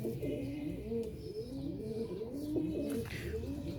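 Several Sialkoti pigeons coo continuously in overlapping, throaty rolls, close and fairly loud, with no voices.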